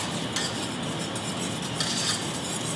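Two eggs are beaten into batter, a continuous brisk stirring and scraping against a bowl, close and steady with a few sharper clinks.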